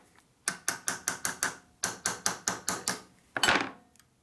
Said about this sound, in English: If you hit it too hard, you break the bushing.